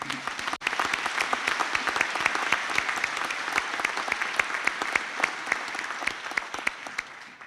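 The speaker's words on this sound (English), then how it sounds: "If you'd like now to give them all a round of applause." A graduation audience claps in sustained, even applause that holds steady for several seconds, full and moderately distant in a large hall.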